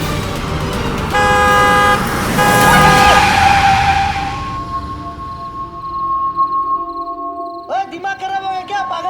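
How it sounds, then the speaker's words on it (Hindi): A car approaches loudly with a long blaring horn blast, the tone lingering and fading, followed by sharp shouting voices near the end. "आनंद जी, हट जाइए प्लीज, गाड़ी आ रही है"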